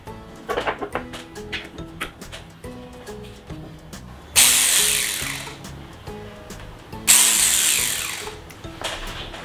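A disassembled cordless 24V battery jet cleaner pump runs in short bursts, with mechanical whirring and clicks that give way to two longer, louder spells of pumping and hissing.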